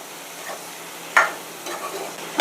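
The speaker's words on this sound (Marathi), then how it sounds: "आणि याला सगळं असं व्यवस्थित मिक्स करून घ्यायचं आहे." Cooked broccoli stirred in a pan with a spatula, giving a few soft scraping strokes and light sizzle, with a sharper scrape near the middle and another at the end.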